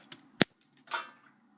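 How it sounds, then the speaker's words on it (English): A spring-loaded missile firing from a Transformers Armada Red Alert toy figure: a faint click, then one sharp snap, followed by a brief rushing clatter as the missile flies off. "And as I say that, the missile flies out."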